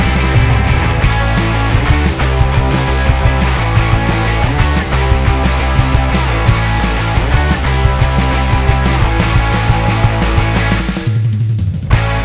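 A full band song plays loudly throughout, with driving drums, bass and guitars in a dense mix, dropping out briefly near the end before resuming.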